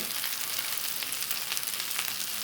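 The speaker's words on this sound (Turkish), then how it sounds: "Gayet güzel kızardılar, kızarıyorlar." Köfte meatballs fry in a pan over moderate heat, giving a constant, dense crackling sizzle with small pops, close by and with no voices.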